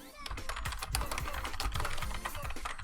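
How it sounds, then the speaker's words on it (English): A loud computer keyboard clacking in quick, irregular bursts of keystrokes during a pixel art drawing session, close and continuous throughout. "And sorry for the keyboard clicking."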